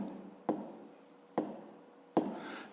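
Pen strokes on paper while working a fifth-grade maths exercise, three separate quick scratchy marks spaced about a second apart, faint and close, with no talk.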